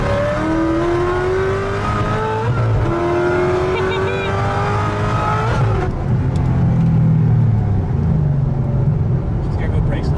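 An 800 HP Corvette ZR1 accelerates hard, the exhaust roaring through rising gear pulls with brief breaks at the shifts, loud and close, with people talking over it.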